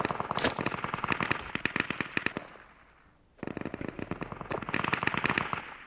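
Rapid gunfire in the survival shooter Deadside, with enemies firing from a road near a guardrail by the woods: dense bursts of automatic shots, a brief lull near the middle, then sustained firing resumes, fairly close and loud.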